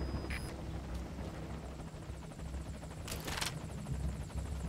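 A helicopter approaches in the video game Metal Gear Solid 5, its rotor beating as a steady low chopping drone over ambient game sound, with faint brief electronic tones layered on top.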